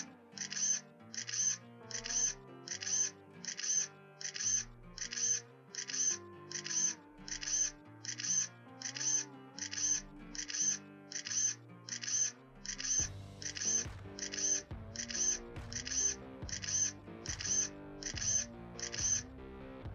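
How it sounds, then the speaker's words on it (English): Repeated electronic camera shutter clicks from a DJI drone remote controller, one per capture during a DJI Mavic 3 Multispectral mapping flight, at a steady, regular pace, heard over layered tonal music throughout. "The remote controller will give you a camera shutter sound every time the drone takes a capture."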